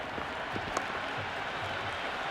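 Crowd applause and cheering in a Cricket 2026 PC game, Mumbai Indians versus Rajasthan Royals, a steady roar of clapping through the whole stretch after a boundary shot, with no talk over it.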